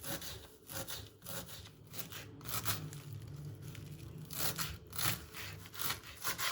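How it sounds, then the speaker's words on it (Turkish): Carrots are grated against a metal grater for a Turkish mücver, giving rhythmic rasping strokes, close and steady, several quick passes in a row with no talk. "Havuçlarımızı rendeliyoruz."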